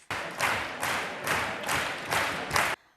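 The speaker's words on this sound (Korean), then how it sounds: "공연이 시작되기도 전에 관객들이 끊임없이 박수를 칩니다." An audience in Madrid's Royal Opera House, packed into fifth-floor seats, applauds in loud, rhythmic waves, the clapping swelling about every half second in steady pulses with no talk over it.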